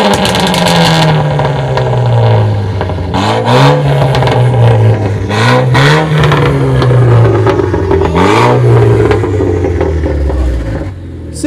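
A Renault Clio 4 RS Trophy with a stage 2 tune revs hard several times, each blip rising sharply then falling back to a rumbling idle, loud and close with crackling overrun between pulls.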